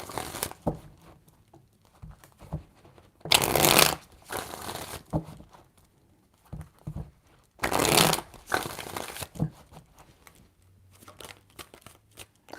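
Tarot cards are shuffled close by, with two longer, louder riffling bursts separated by quieter taps and soft handling sounds, and no one speaking.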